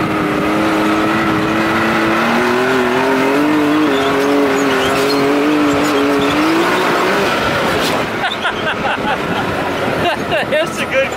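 A Can-Am Maverick X3 UTV fitted with LSR and ZRP parts is driven hard, its engine droning and rising in pitch, then bumping and rattling over rough ground near the end, loud and close under talk.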